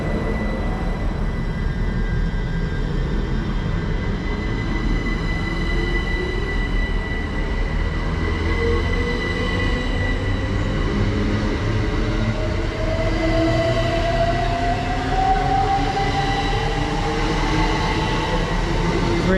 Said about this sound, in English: now is the 1108 Great Western Railway service to Didcot Parkway.